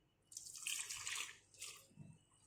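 Water is poured from above over spice paste on fish being prepared as Balinese pepes, two faint, short splashing pours in a quiet kitchen.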